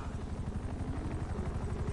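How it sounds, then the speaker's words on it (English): Faint, distant rotor chop of helicopters in GTA 5 Online, a low rhythmic thumping that stays quiet and steady throughout. "Yeah, I hear helicopters."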